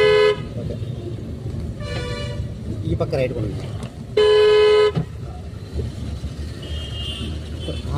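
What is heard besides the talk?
car horn honking while driving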